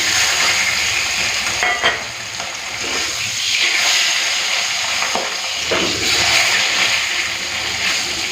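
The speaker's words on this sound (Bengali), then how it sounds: "তেলটা গরম করে নিয়েছি প্রথমে পমফ্রেট মাছটা ভেজে নিচ্ছি" Pomfret fish fries in hot oil in an iron wok with a loud, continuous sizzle and hiss, with occasional stirring clatter and spatter bursts, heard close up.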